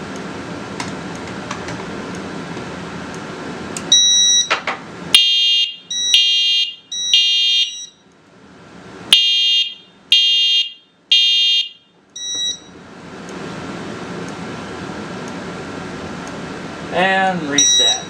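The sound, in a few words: smoke detector alarm sounding during system test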